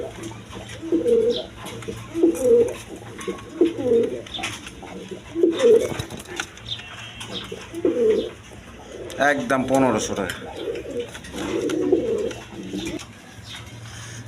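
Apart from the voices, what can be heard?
pigeons calling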